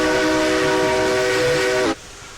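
A locomotive in the video game Railroads Online sounds a steady, loud horn-like whistle with stacked harmonic tones for almost two seconds, then cuts off abruptly, leaving quieter background rumble.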